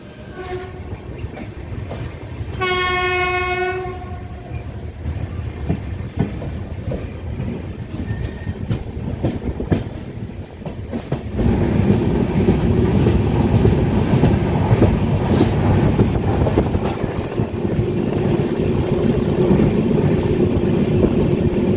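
The Mahalakshmi Express 17411 sounds its horn briefly early on while departing Jaysingpur station, then a steady rumble of rolling rail cars builds and continues, loud and close, with rhythmic clatter.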